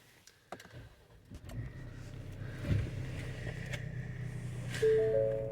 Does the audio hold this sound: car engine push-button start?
yes